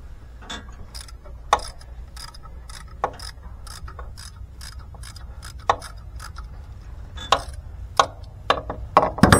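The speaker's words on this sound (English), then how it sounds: "I have to use a wrench for that one." Wrench or ratchet turning a bolt on a car engine, giving sharp, irregular metallic clicks spread through a quiet background and coming faster near the end.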